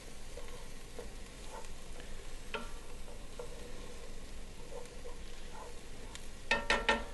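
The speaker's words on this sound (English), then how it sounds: "I'm sure you can hear that sizzling up right now." Food sizzles steadily in a hot frying pan, with a few light clinks and stirring scrapes, growing busier near the end.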